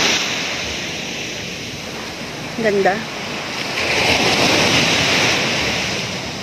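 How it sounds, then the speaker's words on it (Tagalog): Ocean surf rolling in and breaking on a clear-water beach at La Union, a steady broad wash with a louder surge toward the end, heard near and loud with wind buffeting the microphone and a brief voice partway through. "Grabe yung ano. Yung alon."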